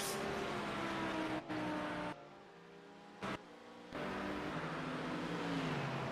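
GT4 race car engine in the iRacing sim during a night multiclass race, a loud sustained engine drone with shifting pitch, briefly cutting out twice, with no talking.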